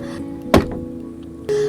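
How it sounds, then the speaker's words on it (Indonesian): Door slammed shut hard, one sharp heavy thunk rising out of a quiet room, then a faint settling tail. "Setelah itu ada yang menutup pintu dengan kencang."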